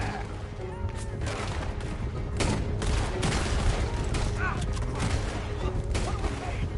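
A coach robbery shootout in Red Dead Redemption 2 brings rapid, overlapping gunshots from several shooters in dense volleys. The firing sounds close and keeps going without a break, with shouting voices mixed in.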